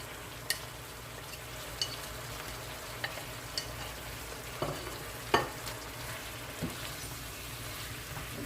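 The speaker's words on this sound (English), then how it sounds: "Just allow your meat to just cook properly. Stir fry." Seasoned meat for a Jamaican-style cheese steak dish stir-fries in a pan, a soft continuous sizzle with scattered crackles and occasional light clicks of a utensil, fairly quiet and without talk.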